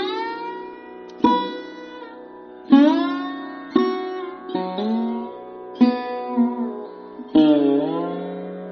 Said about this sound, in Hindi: you have to press the string with the edge of the fingernails.